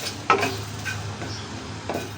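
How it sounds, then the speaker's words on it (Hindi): Masala spices dry-roasted without oil and stirred in a pan for an aloo (potato) dish: a soft, low sizzle with a couple of sharp utensil scrapes and clinks against the pan, heard alone. "अच्छी तरह से इसको हम रोस्ट करेंगे सारे मसाले को।"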